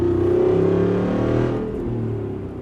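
Jeep Wrangler 392 Final Edition exhaust rumbles in a loud, close rev, a steady deep droning roar that eases off after about a second and a half, with no talking.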